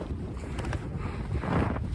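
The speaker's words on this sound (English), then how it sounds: "I hope you can hear this because it's getting windy out here." Wind buffets an outdoor microphone in a steady rumbling roar with gusty swells, loudest near the end, and no voices over it.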